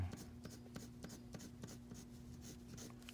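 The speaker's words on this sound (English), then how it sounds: "Then you could just shade it. Shade whatever you want." Pencil shading on paper, quiet rhythmic scratchy strokes repeating back and forth at a steady pace, close and soft, with a faint constant hum underneath.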